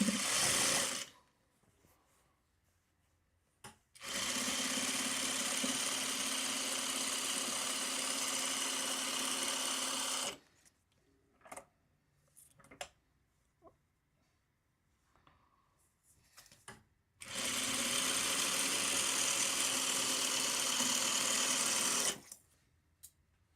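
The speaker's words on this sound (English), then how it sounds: "let's sew off on the piece of scrap here" A sewing machine stitches quilt fabric onto a scrap piece in two long, steady whirring runs separated by quiet pauses with small handling clicks, heard close and alone.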